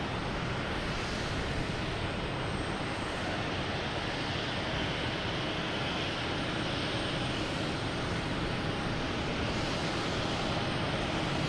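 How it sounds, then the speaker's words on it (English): A United Airlines Boeing 737 MAX 8 lands at Boston Logan on a night approach, a steady broad jet roar that stays loud and even throughout with no voices over it. "There we go, United Airlines coming in from Newark. 737 MAX 8."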